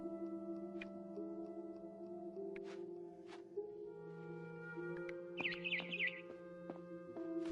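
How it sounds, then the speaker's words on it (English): Bird chirps outside a window in the video game What Remains of Edith Finch, a brief cluster of high, quick tweets late in the clip over steady sustained musical tones, with no talking. "Then I heard chirping outside my window."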